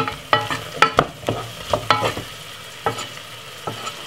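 Sweet potato and garlic stirred as they fry in oil, with a steady sizzle broken by repeated scraping spoon strokes, close and fairly loud, and no talking.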